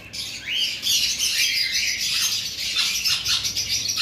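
Violet-wing lovebirds squawk and chirp in a dense, shrill, continuous chatter, loud and close, with overlapping calls and no voices.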